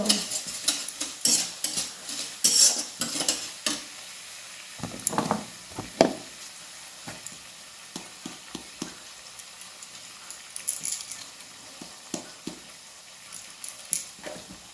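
Spoon stirring bottle gourd curry in a metal pot, repeated scraping and clinking strokes in uneven bursts over a faint sizzle, close by and fairly soft, with a few louder knocks early on.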